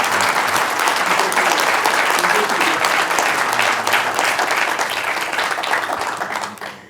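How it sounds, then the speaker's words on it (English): Audience applause at a community event on eastern North Carolina jobs, a sustained wash of many hands clapping at full strength before tapering off near the end. "That means applause."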